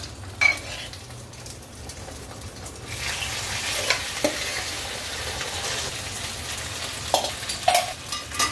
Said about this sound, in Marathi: आपले ड्रायफ्रूट्स चांगले परतले